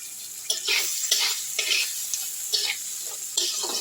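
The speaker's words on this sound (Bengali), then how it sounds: "পেঁয়াজ টমেটোটা আমি একটু ভাজা ভাজা করে নেব।" Onion and chopped tomato frying in oil in a pan, a steady sizzle broken by rhythmic stirring scrapes about every half second, close and fairly loud with no talking.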